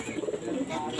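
A male pigeon gives a soft, low, close cooing call, brief and murmuring.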